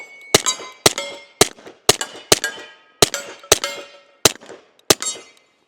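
A Nighthawk Custom Colt M45A1 .45 pistol fires about nine sharp, loud shots in an irregular string, each crack followed by a short ringing decay.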